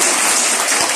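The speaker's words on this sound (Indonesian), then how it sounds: "tepuk tangan dulu semuanya" Teachers at the closing ceremony of an arts and crafts training course clap in a brief, dense burst of applause, loud and close.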